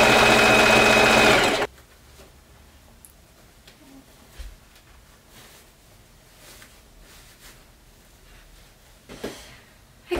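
A sewing machine runs in one loud, steady burst as it stitches along the edge of a fabric strip for a dress, then stops, leaving quiet room tone with a few small handling knocks and clicks.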